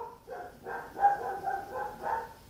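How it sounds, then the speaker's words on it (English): Dog barking in a few short, muffled woofs spaced roughly half a second apart, moderately loud against a quiet background. "Now, this dog does not shut up."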